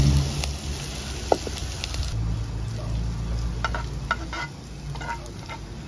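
Beetroot leaves with onion and green chillies fry in a pan, making a low continuous sizzle broken by light spoon scrapes and small ticks at close range, with no voices.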